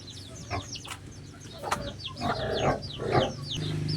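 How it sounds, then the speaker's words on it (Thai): Grown young chickens on a Thai farm cluck and chirp repeatedly, a mix of soft clucks and higher peeps close by, over a low background hum. "นี่ก็ไก่โตรุ่นใหญ่เนาะ เป็นบ่าวเป็นสาวแล้ว"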